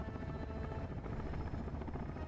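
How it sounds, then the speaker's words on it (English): A helicopter drones inside the Sons Of The Forest video game, a loud, steady rotor roar with rapid chopping that fills the whole moment without pause. "Alright, we're in a helicopter"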